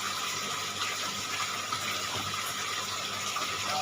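Water siphoned out of an aquarium during cleaning, flowing through a tube without a pump: a steady, close rushing and gushing stream that continues without pause, alone with no talk.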